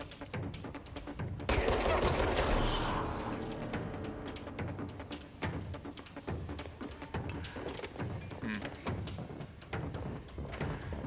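Gunfire in the video game Control, a sustained loud burst of shooting followed by a dense run of sharp repeated shots and thuds, close and steady.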